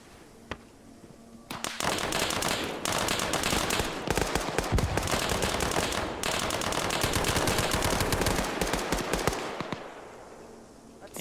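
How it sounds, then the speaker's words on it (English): A machine gun rattles in long, loud sustained bursts during a Vietnam War-themed Arma 3 mission, close and dense for about eight seconds. The firing fades to quieter ambience at both ends. "that was a machine gunner right there with an MG that took out Prowzy and Etta"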